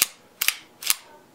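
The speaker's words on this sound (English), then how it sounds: "I'll take this out and shoot it to make sure it's reliable." A repaired Colt 1911 pistol goes off in sharp, loud reports with mechanical clatter, three distinct bursts spaced evenly, close to the listener and with no talk.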